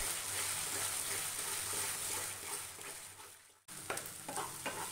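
Banana paste cooks in ghee in a pan, a constant fizzing sizzle with spatula stirring and scraping, a sudden brief silence, then sputtering pops as frying resumes.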